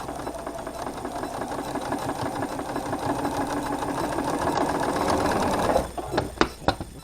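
Close and loud, a sewing machine hums along a quilt block seam in a rapid, continuous stitching rhythm for about six seconds, then halts, leaving a few sharp clicks and knocks of handling.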